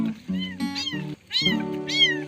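A kitten meows repeatedly under a tree near its mother, giving several clear, high, close meows with short pauses between them, with no talking over them.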